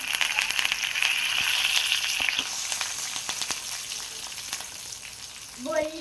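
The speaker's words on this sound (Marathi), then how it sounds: "आता आपण कढीपत्ता टाकत आहे।" Curry leaves sizzle sharply as they hit hot oil in a kadhai, a loud, bright frying hiss that spits and crackles, then eases to a softer sizzle before a brief clatter near the end.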